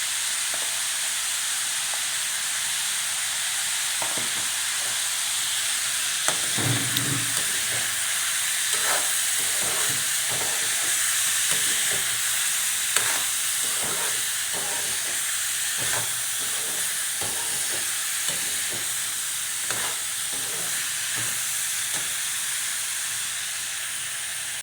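Chana dal tempering in a wok-style kadhai with green chillies, garlic, cloves and black cardamom gives a steady close sizzle and hiss with scattered small pops and stirring clicks throughout, no voices.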